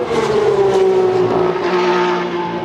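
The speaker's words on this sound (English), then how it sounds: "hearing some of these Porsche Cup cars coming up is bonkers" Porsche Cup race cars roar up Eau Rouge at Spa during qualifying, a loud sustained engine howl close by with a steady high-revving tone and no talk.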